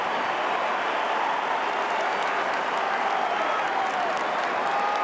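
A big stadium crowd at an Australian football match, Adelaide against Sydney, roars in a dense, sustained wall of cheering and noise that holds steady throughout without a break.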